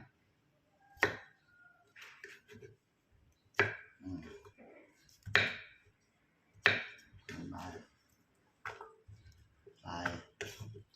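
A knife chops cucumber on a cutting board in separate sharp strokes, some grouped in quick bursts, with pauses in between and no talking.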